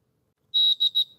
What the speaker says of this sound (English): it's going to give you an audible beep as the liquid rises so that you know when you're nearing the top of the glass.